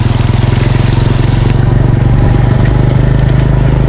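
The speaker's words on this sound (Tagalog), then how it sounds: "Abot pa yung makina ng motor ko." Motorcycle engine running steadily while ridden through deep floodwater that reaches up to the engine, a loud close drone with a rhythmic pulsing idle and faint water splashing, no talk.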